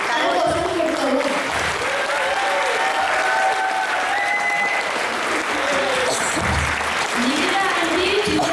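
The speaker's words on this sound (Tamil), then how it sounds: "அதனால் அவங்களுக்கு கொஞ்சம் கரகோஷம் கொடுக்கவும்." An audience claps steadily after a Tamil stage drama performance, with the applause continuing throughout while voices and a few tonal sounds are heard faintly underneath.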